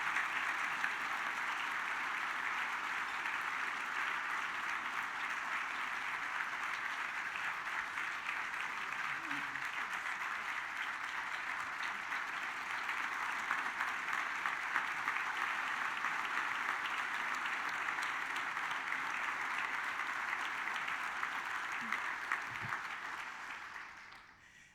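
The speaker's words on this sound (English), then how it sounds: "In recognizing our very own treasure, please give Alvin a big round of applause" Sustained applause from a sizable audience, a dense steady patter of clapping that holds evenly for a long stretch before fading out at the end.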